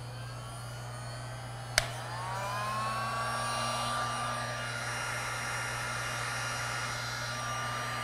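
An electric heat gun starts with a sharp click and settles into a steady, fairly faint whooshing blow of hot air that keeps going alone.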